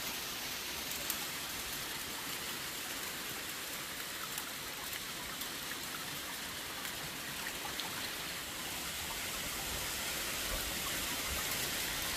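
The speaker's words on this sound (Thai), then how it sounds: "ลูกเห็บพี่น้อง" Steady dense patter of hail falling in Norway, a continuous hiss-like roar of impacts with no voices.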